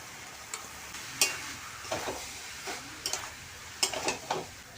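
Pieces of young teasel gourd tip into a hot pan and sizzle softly, with scattered clinks and scraping stirs at an uneven rhythm, fairly faint and with no one talking.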